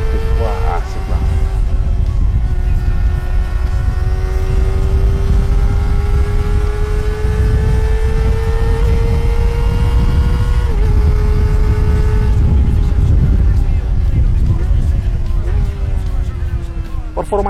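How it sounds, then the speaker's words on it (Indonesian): A loud 2020 Kawasaki Ninja ZX-25R engine screams as it revs up through the gears, pitch climbing then dropping at each shift, with auto-blipper blips on downshifts. "mendengar lengkingan suara mesin, perpindahan gigi naik, dan saat downshift ada auto blippernya aktif"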